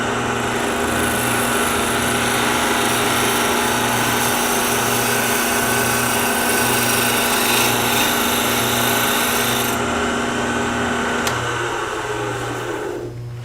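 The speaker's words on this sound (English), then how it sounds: "So this is the spindle roughing gouge, cut number 1." A wood lathe spins steadily while a spindle roughing gouge takes a light cut, a continuous close mechanical hum with a pulsing low drone that cuts off near the end.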